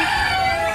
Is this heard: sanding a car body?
no